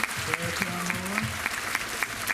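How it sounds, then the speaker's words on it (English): An elementary school audience applauds the fourth-grade band's trombone section: a moderate wash of clapping from a crowd in a school hall, with a voice and some tones sounding through it. "give a big round of applause for our trombones and our little"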